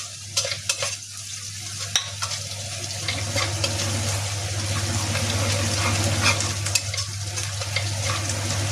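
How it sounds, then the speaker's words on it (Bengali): Rice fries in ghee for a Basmati pulao, a steady close sizzle with the scrape of stirring throughout and a low constant hum underneath, with no talking. "ফ্রাই হয়ে গেলে আমি একটু ঘিয়ের মতো ফ্রাই করে নেব।"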